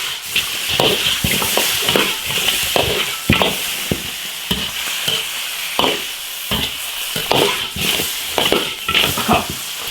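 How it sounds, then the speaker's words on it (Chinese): Chili peppers, lantern peppers, pickled peppers, Xinjiang garlic and seasonings stir-fry in an iron wok, a steady loud sizzle broken by repeated scrapes and knocks of the spatula against the metal. "把调料炒香一下"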